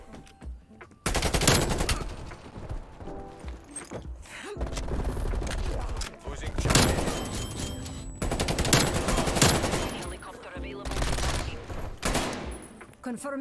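Automatic weapon fire from hip-fire shooting in Call of Duty Cold War, with repeated loud bursts of rapid gunshots separated by short pauses and a faint game background between them.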